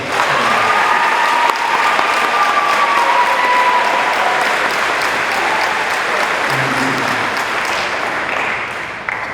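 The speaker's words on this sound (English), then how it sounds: "Let's give them a round of applause." A large audience at a high school graduation ceremony claps in sustained, steady applause, a dense wash of hand claps filling the room for several seconds.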